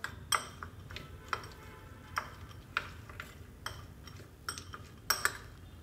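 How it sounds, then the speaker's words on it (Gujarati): Masala spices are stirred into peanuts in a bowl with a spoon, giving faint, irregular clinks and taps against the bowl over a quiet background. "હવે આપણે આ બધા જ મસાલાને સારી રીતે હલાવીને સિંગમાં મિક્સ કરી દેશું"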